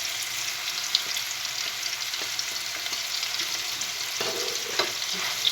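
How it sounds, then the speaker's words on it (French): Meat with spices and salt cooking in a pan, an even close sizzle of frying with occasional utensil taps and stirring clicks, no speech. "on va le laisser cuire jusqu'à ce que la viande soit bien cuite"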